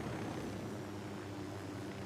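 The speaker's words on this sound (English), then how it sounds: "gotta remember how to fly a helicopter without hitting trees." A helicopter flies in a military shooter video game, its steady droning engine and rotor hum continuing at a moderate, even level with no talk.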